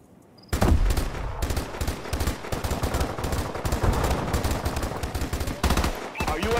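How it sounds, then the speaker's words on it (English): Rapid, sustained automatic gunfire from a first-person shooter team deathmatch, loud and close, a dense continuous burst of shots laying down suppressing fire after a brief quiet start. "Suppressing fire!"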